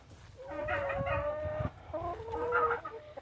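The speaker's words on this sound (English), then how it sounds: "The turkeys are talking, and we're almost in the pen." Turkeys in a farm pen call repeatedly in loud, close, strained bursts, one long run followed after a short pause by another. No talking is heard.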